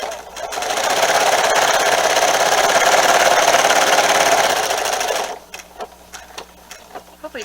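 A sewing machine stitches down quilt binding in a steady, loud whirring run of about five seconds, then stops, leaving a few soft clicks and handling noises.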